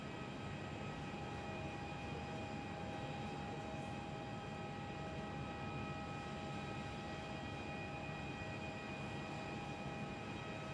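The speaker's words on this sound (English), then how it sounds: "Lovely landing." An airliner landing at Perth airport, heard as a faint, steady distant engine roar with a constant whine, unbroken and without voices.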